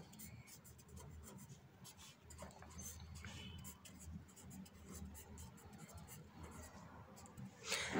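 Chalk or marker writing on a board in a mechanics lecture, a steady faint scratching and tapping of strokes running continuously under a quiet room, ending with a louder clack.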